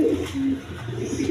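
Blue Gorra pigeons coo in a low, throaty murmur, a steady close-up burble that fills the whole short stretch with no voices over it.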